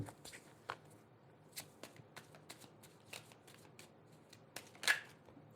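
Tarot cards shuffled and drawn, a run of quick papery riffles and soft slaps close by, irregular and fairly quiet.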